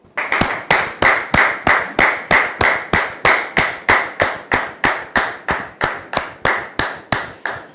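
Audience applause on a French-language talk show, heard as a single close, loud pair of hands clapping in a steady, even rhythm of about twenty-five sharp claps.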